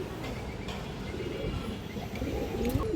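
Pigeons of fancy breeds offered for sale coo softly and repeatedly amid a steady, noisy background hum at the seller's place.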